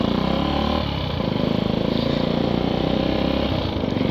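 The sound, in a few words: Suzuki Satria FU motorcycle engine running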